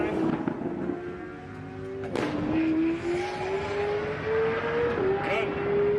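McLaren drag race car at a test-and-tune session for registered drag racers, a loud engine whose pitch rises steadily as it launches and pulls away, with a sharp crack partway through and crowd noise and talk around it.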